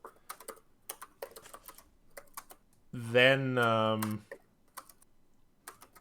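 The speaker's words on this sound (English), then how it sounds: "you hear tapping of a keyboard" Light, scattered keyboard taps click away in short bursts, interrupted midway by a sustained sung or hummed tone, with a brief spoken word near the start.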